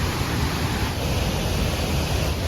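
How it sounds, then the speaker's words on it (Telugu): Kothapalli waterfall in Paderu, a dense unbroken roar of rushing water, loud and close, with no voices. "గాయస్ కొత్తపల్లి వాటర్ ఫాల్స్కి వచ్చేసాము"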